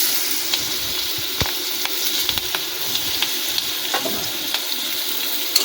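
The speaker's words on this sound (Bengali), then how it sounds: "তুলে নেওয়া ওই তেলেতে আমরা কুচানো পেঁয়াজ দিয়ে দেবো" Chopped onions fry in hot oil left from frying, a steady loud sizzle with scattered crackles and pops throughout.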